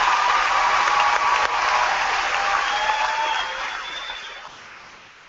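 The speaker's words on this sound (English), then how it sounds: "Let's give them a round of applause." Sustained audience applause at the 2014 Whitehall High School graduation, a dense, loud wash of many clapping hands that holds steady and then gradually fades out over about five seconds.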